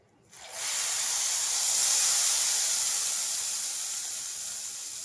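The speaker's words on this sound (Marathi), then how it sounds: "तुम्ही पण आवाज ऐकला असेल कसा चूर छान आवाज आलेला आहे" Tadka tempering sizzling in a pan for bajra millet khichdi, a sudden loud hiss that jumps in and holds as a steady, close sizzle, easing only slightly toward the end, with no voices.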